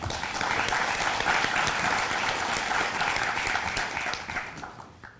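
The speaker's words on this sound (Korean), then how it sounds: "박수로 환영해 주시기 바랍니다." Audience in a packed library auditorium, at a public debate on phasing out nuclear power, applauds to welcome a guest speaker: sustained, even clapping from many hands that tapers off at the end.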